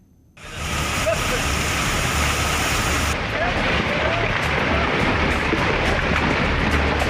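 Floodwater roars through a remote village in Uttarakhand during monsoon rains and landslides, a loud, steady broadband rush that sets in abruptly after a brief quiet start and holds unbroken throughout.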